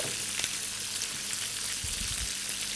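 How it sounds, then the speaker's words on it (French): Liver and quails cook together in a pan over fairly high heat, giving a continuous, moderately quiet sizzle with a few soft bumps from the pan near the end. No one speaks. "On laisse tout ça mijoter ensemble."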